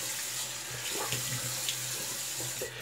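A bathroom tap runs for a post-shave rinse, a steady close rush of water into a sink with faint splashes, with no talk.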